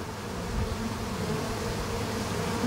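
A honeybee swarm buzzes steadily at a hive, a soft, even hum of many insects at moderate distance with no talking over it.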